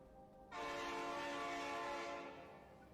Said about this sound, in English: Fine train in there.